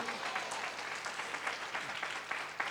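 A church congregation at a sermon by Pastor Thomas claps continuously, a dense, fairly close burst of hand claps with a few louder individual claps standing out, and a faint voice beneath.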